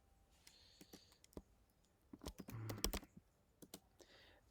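Sparse, separate key presses on a MacBook keyboard while a password is entered, with a quick cluster of clicks in the middle, close and quiet against a near-silent background.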